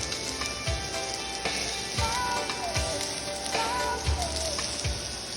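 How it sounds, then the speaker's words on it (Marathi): Steady rain patters outside in a continuous hiss, with occasional soft thumps and faint background clatter nearby. "बाहेर मस्त पाऊस पडतोय"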